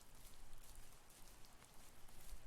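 Steady rain falls in the video game The First Tree, a faint, even hiss of drops on surfaces continuing throughout with no voices over it.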